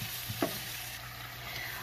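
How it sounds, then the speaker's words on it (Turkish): Tomatoes go into a pan of frying peppers for a vegetable bulgur pilaf, bringing a steady, close sizzle. A quick stirring scrape comes early, and the frying continues without talk. "Kavurduktan sonra hemen domatesimizi ekliyoruz."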